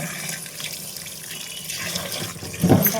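Tap water running into a sink while raw chicken is rinsed at home, a steady splashing stream with a louder gush near the end, close to the microphone.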